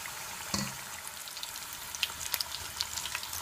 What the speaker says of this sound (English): I'm just gonna allow them to cook for at least the next 2 more minutes